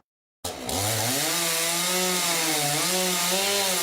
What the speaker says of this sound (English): Hacking into them with a chainsaw, firefighters are cutting up a couple of massive trees